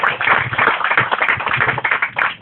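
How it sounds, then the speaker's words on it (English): Audience applause at a book launch in a tea garden restaurant, a dense steady patter of many hands clapping for about two seconds, fairly close and continuous without voices. "give him a round of applause"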